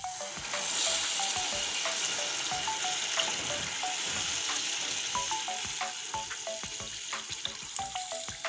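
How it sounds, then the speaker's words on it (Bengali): Water is poured into hot spiced oil while cooking young jackfruit with potatoes, and a loud, continuous crackling sizzle fills the whole stretch with dense popping spatters. "এখন আমি জল দিয়ে দিচ্ছি।"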